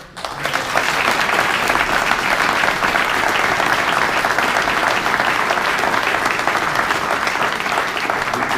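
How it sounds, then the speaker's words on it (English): Sustained applause from a seated audience at a yacht club history talk, starting abruptly and holding a full, even rush of clapping to the end. "if we could give them a round of applause, please."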